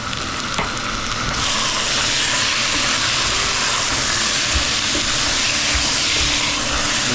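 Meat with turmeric sizzling hard in a hot pan while cooking a chicken biryani, a loud, continuous frying hiss with faint scrapes and small pops underneath.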